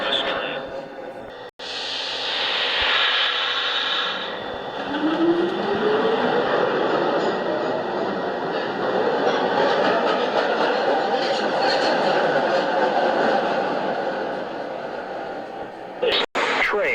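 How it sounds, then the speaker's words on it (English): A Manhattan-bound 1 train on the New York City subway in 1997 roars steadily along the rails. The loud, continuous rumble and rail noise last throughout, with a rising metallic squeal partway through. "This is a Manhattan-bound 1 train"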